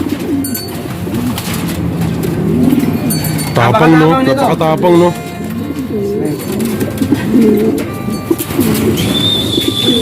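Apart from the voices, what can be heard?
racing pigeon cooing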